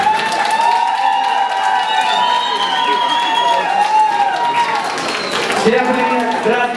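Audience at a Trinity Dance show claps and cheers steadily, a dense, loud wash of applause with a crowd murmuring and someone talking over it.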